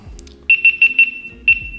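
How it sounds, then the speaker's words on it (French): A GoPro emits a sharp series of high electronic beeps as its countdown timer starts a timelapse, four quick beeps followed by one more after a short pause, loud and close with no talk. "j'avais mis un minuteur de 3 secondes"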